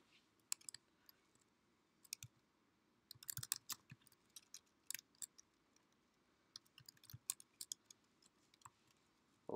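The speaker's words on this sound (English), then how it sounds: "One of the difficulties with this is I'm typing down here" Quiet, irregular clicking of computer keyboard keys, typed in short bursts and scattered single taps at close range over a faint room hum.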